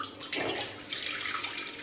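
A cup of water poured into a pot on a lit gas stove while making coconut modak, a steady close splashing rush lasting the whole moment without talk.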